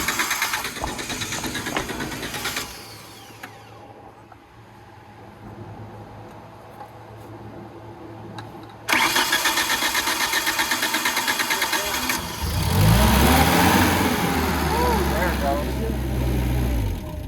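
A Tennant 355 ride-on floor sweeper with its choke on cranks, then its engine catches and runs at a steady, loud, buzzing idle. People talk over the running engine.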